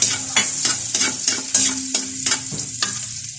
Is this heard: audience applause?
no